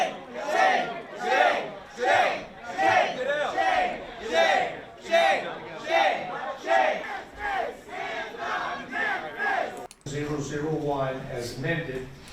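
Protesters in a Tennessee legislature chamber chant in loud, rhythmic bursts, a crowd shouting in unison with regular pulses, then a brief break before a single voice speaks over a lingering crowd.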